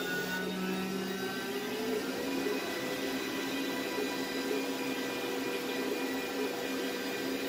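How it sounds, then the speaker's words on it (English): A Glowforge laser cutter runs with a steady mechanical hum and whir, its fans and motors holding an even, moderately loud drone throughout without speech. "you simply tap the button, and then the laser immediately fires up"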